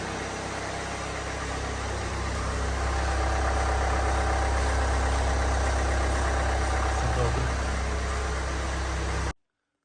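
A Hyundai Santa Fe 2.2 diesel idling on a workshop lift with all-wheel drive engaged, a steady close mechanical drone that runs evenly and then cuts off abruptly.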